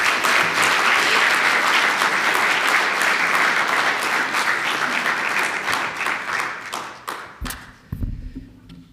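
A room full of audience members breaks into loud sustained applause to welcome the speaker Dr Quentin Genuis at an evening talk, the clapping thinning out and fading into scattered claps near the end.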